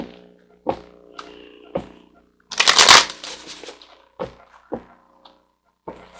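Tarot cards being shuffled and handled up close: soft scattered taps and riffles, then a dense two-second burst of shuffling. There is no talking.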